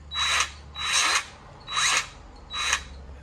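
A Hercules cordless grease gun motor whirs in four short, evenly spaced bursts of about half a second each, loud and close, with quiet gaps between them.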